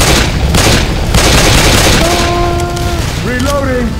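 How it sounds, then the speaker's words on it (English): Left 4 Dead 2 gunfire: a loud, dense wash of shots and booms in close quarters, with voices talking over the shooting and tonal game sounds rising toward the end. "You keep shooting me!"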